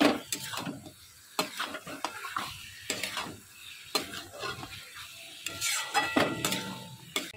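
Mutton is stir-fried in a pot with a spatula, scraping and clattering in irregular strokes over a low, steady sizzle, close and fairly loud.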